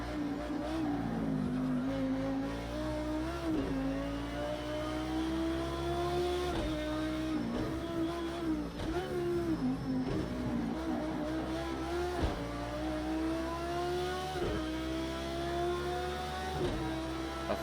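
Audi LMS race car lapping Bathurst in the Project Cars 2 racing game, its engine droning continuously with repeated rising and falling revs through gear changes and braking, loud and unbroken throughout.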